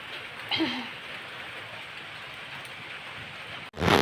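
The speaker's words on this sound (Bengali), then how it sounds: "হালকা হালকা বৃষ্টি পড়া শুরু হয়েই গেছে কমপ্লিট।" Light rain falls outdoors as a soft, even hiss of drops with one brief louder sound early on, before the recording cuts abruptly near the end.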